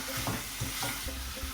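Spiced karahi gosht meat with cumin and crushed coriander being stirred and turned in a pan, with soft repeated scraping strokes over a constant gentle sizzle of frying.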